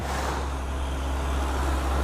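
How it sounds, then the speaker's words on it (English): A large truck rumbles past on a bridge during a motorcycle ride through a village, a steady heavy low engine drone with road noise that swells slightly toward the end, no talking. "Bridge is jumping because of the truck."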